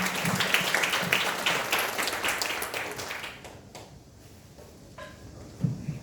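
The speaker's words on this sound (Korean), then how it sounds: "우리 참모장님께 환영의 박수 부탁드립니다." An assembly applauds in welcome at a Buddhist temple service, dense clapping that runs steadily for about three seconds before thinning out, followed by quiet room noise and a few knocks.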